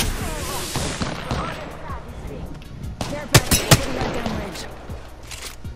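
Gunfire in the battle royale game Apex Legends: a clatter of fast shots with a few louder, sharp bursts near the middle, mixed with busy game effects and players talking over it.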